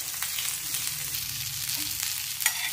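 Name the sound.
cumin seeds frying in hot oil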